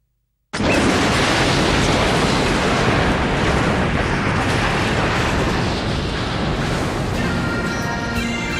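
A dense, continuous roar of crackling bursts fills the whole stretch, loud and sustained, like a rapid barrage of fireworks exploding with no pauses.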